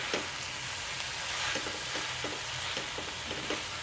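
Leafy greens fry and sizzle in a pan with a steady hiss, punctuated by soft rhythmic scraping and stirring taps, close up and fairly quiet.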